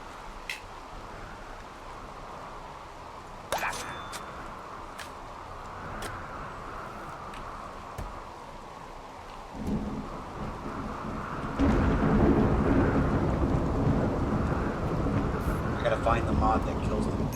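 Steady rain with low rumbling thunder in a video game, a broad hiss that builds louder in the second half with a few brief sharper cracks.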